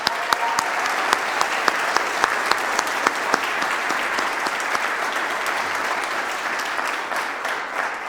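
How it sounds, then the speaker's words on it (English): Audience clapping fills the room, steady and dense throughout, with a few sharper individual claps standing out at the start before the applause settles into an even wash. "Can we all clap for her real quick?"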